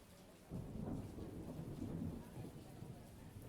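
Thunderstorm with rain playing as a steady background ambience: a dense low rumble of thunder over continuous rainfall, starting abruptly after a brief quiet moment and holding at an even, moderate level.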